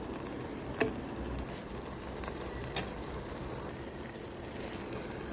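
Pieces of fried fish coated in masala cook in a pan for fish biryani, giving a steady, close, soft sizzle and bubbling throughout with a couple of brief clicks from stirring.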